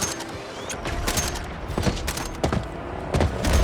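Gunfire in Suicide Squad: Kill the Justice League sounds as rapid, dense bursts of shots and thumping impacts across a few seconds, loud and close with little speech.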